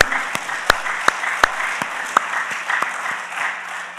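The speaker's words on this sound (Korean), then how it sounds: "우리 하나님께 영광의 박수 올리겠습니다" A church congregation at a Thanksgiving special dawn service claps in praise, a few sharp individual claps standing out over a softer, steady patter of hands.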